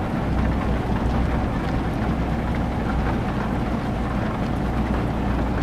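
Steady rain in Euro Truck Simulator 2, a continuous broadband hiss with low rumble from a truck driving through France, even and unbroken for the whole stretch with no voices.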